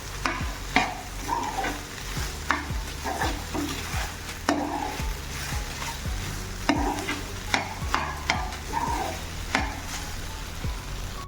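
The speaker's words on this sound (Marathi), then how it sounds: "छान एकदा मिक्स करूया आणि सर्व करूया" Soya chili being stirred in a hot pan, a spatula scraping and tossing the pieces in a steady rhythm of repeated strokes over a continuous close sizzle, with no voices.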